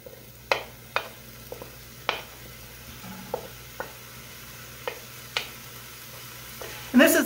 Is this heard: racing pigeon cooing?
no